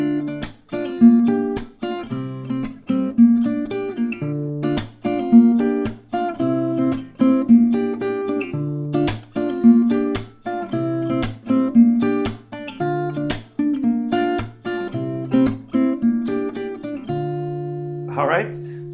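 An acoustic guitar plays a strummed rhythm with a melody woven into the beat for a song: steady, evenly spaced plucked chords repeating in a looping pattern, close and clear, ending on a sustained chord with a brief slide.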